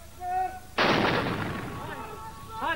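A heavy artillery blast from US forces attacking Fallujah, one sudden loud boom that rolls and decays over a couple of seconds, with voices heard before and after it.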